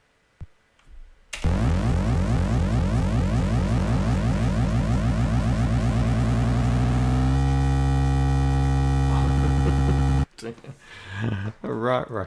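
A harsh, continuous electronic squeal from the SID chip in the 6502 game GridRunner, a dense buzzing racket of rising, stepped tones that holds for about nine seconds and then cuts out, with talk just before and after.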